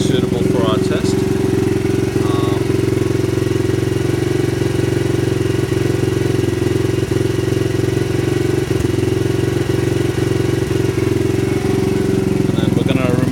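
A Crossfire CF125 125cc motorcycle idles with its exhaust baffle fitted, a steady close low thrumming putter running continuously throughout, with faint voices in the background.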